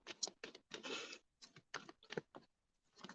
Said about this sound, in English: How much shuffling I gotta do?